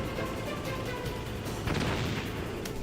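Tank cannon fire in the video game Metal Gear Solid, a continuous rumbling barrage of booms and bursts with a heavier blast partway through, dense and steady throughout.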